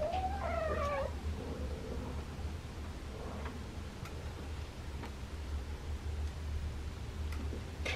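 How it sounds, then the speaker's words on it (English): A feral cat gives a short wavering whine near the start, then a quieter room with faint ticks and a steady low hum. "Nancy, I've never heard a cat whine like Nancy whines."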